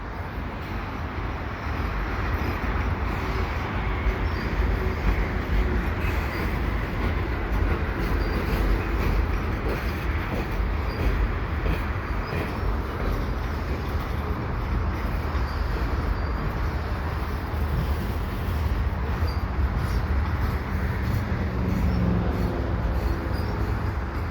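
A slow CPKC freight train passes at Lachine with a continuous heavy rumble of rolling cars on rail, steady and near for the whole stretch, with no speech.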